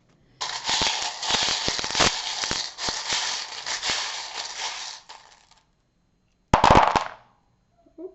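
Small charms are tossed and scattered onto a tabletop, giving a long run of clattering, rattling impacts. A brief second handful lands after a pause.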